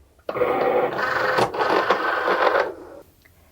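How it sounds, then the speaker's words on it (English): A Cricut cutting machine fitted with a foil tool loads its cutting mat, a steady mechanical whir and rumble running for about three seconds with a small click partway through, close and fairly loud. "I've added my foil tool to the machine, and now I can load my mat."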